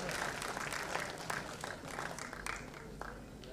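Applause at a film awards ceremony as a guest is invited to the stage, a steady dense wash of clapping from a large audience throughout.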